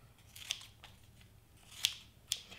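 Scissors snipping 3M tape cut from a big roll, three sharp close snips spread across a couple of seconds over a faint background hum.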